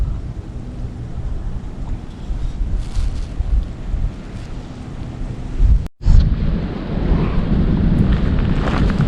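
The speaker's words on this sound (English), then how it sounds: "That prairie wind is up today, so it's going to actually feel probably a bit cooler." Prairie wind at Lake Shetek State Park gusts against the microphone in a steady, loud rumbling roar, with a brief break partway through before it blows on just as strongly.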